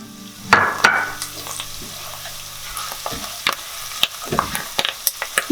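Mustard seeds and a pinch of asafoetida sputter in hot oil for lemon rice, a steady close sizzle dotted with sharp pops and crackles. A clatter of utensil near the start, and no voices.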